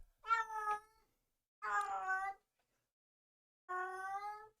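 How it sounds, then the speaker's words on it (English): Three loud, close meows from a domestic cat, each about a second long, separated by silent pauses. "My cat is loud as fuck."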